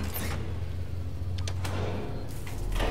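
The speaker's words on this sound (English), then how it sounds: "Ooh, a generator." A generator starting up in the video game Alien: Isolation, heard as a steady low mechanical hum with a few brief clanking, sliding noises over it and no talking.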